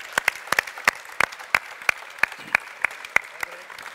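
At a semifinal cooking competition in Helsingborg, a small audience claps for chef Fredrik in sharp, sparse, irregular claps that ring out distinctly over a quiet room, with a voice faintly beneath.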